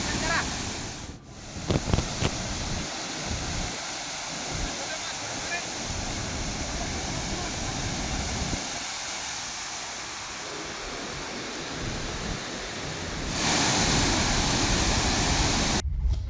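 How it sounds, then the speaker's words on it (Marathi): Water released from the Pentakli dam rushes into the swollen Painganga river in Buldhana during heavy rain, a steady broadband roar of flowing water with wind buffeting the microphone, growing louder near the end. "तर सध्या 9689 क्युसेक्स वेगाने पाण्याचा विसर्ग केला जातोय।"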